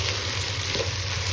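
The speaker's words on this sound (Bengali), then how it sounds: "দেওয়ার পরে এবার সুন্দর করে নাড়তে হবে" Jackfruit curry with cumin and ginger paste cooking in a pan, giving a soft, even sizzle with a faint stir, brief and steady, with no talking.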